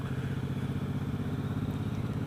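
A 2017 Suzuki Boulevard M109 BOSS cruiser idles along off throttle in third gear at about 2,500 RPM, a deep, even, throbbing engine rumble heard close and steady.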